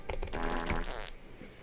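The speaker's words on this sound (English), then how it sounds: "I hope y'all like fart noises." A loud, buzzy fart noise lasting about a second, heard close and alone.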